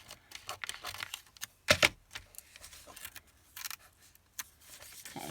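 Scissors cut paper scraps for handmade pocket embellishments, giving a few sharp, close snips and crisp clicks over quiet handling noise, with no talk.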